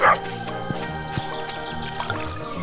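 A dog in the farming game Stardew Valley barks a few short yips over a bright, tinkling background melody, with sparse jingly game effects around it.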